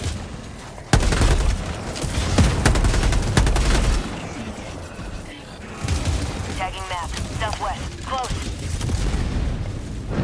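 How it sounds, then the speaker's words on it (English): Bursts of gunfire and booming blasts from the video game Helldivers 2, loud and dense through most of the stretch, with speech over parts of it. "Who is shooting at me?"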